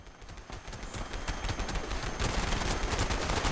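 Sustained automatic gunfire in Fallout 76 on PC, a dense rapid rattle of shots that grows louder and heavier partway through, with no talking.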